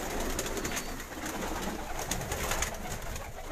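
Teddy breed breeder pigeons coo steadily in a loft, several birds overlapping in a continuous murmur with occasional sharper flutters, close and moderately loud throughout.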